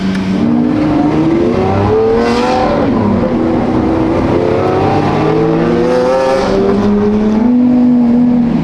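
A Lamborghini Aventador SVJ supercar drives through tight streets, its engine note loud and close with sustained rising and falling revs that echo off nearby walls the whole time.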